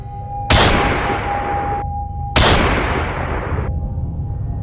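Two loud, sharp gunshots a couple of seconds apart, each with a long echoing decay, near and alone.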